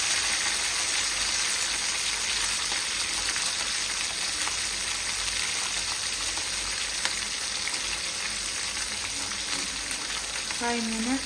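Drumsticks (munakkaya) sizzle steadily in a hot pan for tomato pachadi, a dense, even frying crackle that holds at a constant level throughout with no talking.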